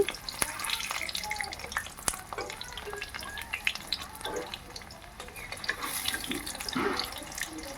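Potato pakoras bubble and sizzle steadily in hot oil on a home gas stove, with a continuous frothy crackle and a few scraping stirs as the fritters are turned.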